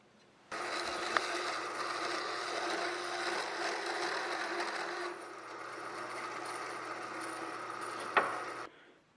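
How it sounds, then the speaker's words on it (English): A bandsaw cuts metal for a Bearhawk experimental airplane rudder, giving a steady whining, buzzing drone that runs for several seconds with a couple of sharp clicks before stopping. "Now it's time for some work on the bandsaw."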